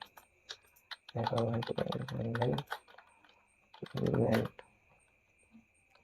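Rapid clicking keystrokes on a computer keyboard patter steadily throughout, close and crisp, while someone talks over them in two stretches.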